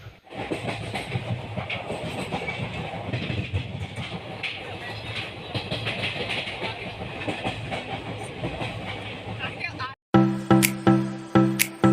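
A passenger train rumbles steadily with rattling wheels and a constant roar, voices murmuring underneath, then a short burst of a music-like tone at the end.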